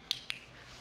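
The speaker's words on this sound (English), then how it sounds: "we call it a clicker. And the clicker is simply, it makes a noise" Two sharp clicks from a horse-training clicker, spaced about a fifth of a second apart, close and crisp against a quiet background.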